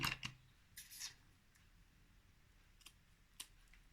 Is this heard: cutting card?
yes